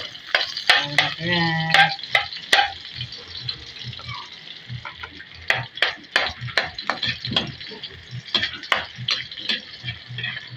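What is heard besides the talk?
garlic frying in a pan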